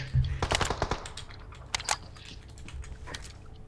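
Rapid bursts of gunfire in a multiplayer shooting video game, a quick volley of sharp shots at the start followed by scattered single shots and short bursts, with no talk over them.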